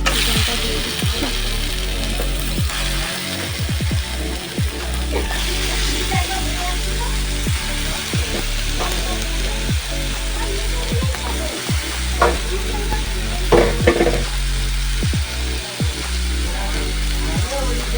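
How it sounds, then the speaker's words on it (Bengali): Chicken pieces frying in hot, cooked-down masala for a spicy Bengali meat curry in a home kitchen, a steady sizzle punctuated by repeated scraping and clinking of a spoon stirring the pan, with brief low voices at times. "মশলাটা কষানো হয়ে গেছে, এবার আমি চিকেনটা দিয়ে দিচ্ছি।"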